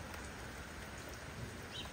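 Steady, faint rainfall hisses outdoors around racing pigeons, an even wash of patter with no voices.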